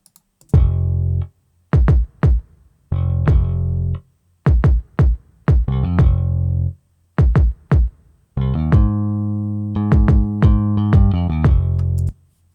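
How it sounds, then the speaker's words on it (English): Untuned kick drum and bass line playing back together in a music production session, with repeated punchy low kicks and sustained bass notes in phrases separated by short gaps, loud and alone with no talking. "let's take a quick listen to our bass and kick, tuned and untuned"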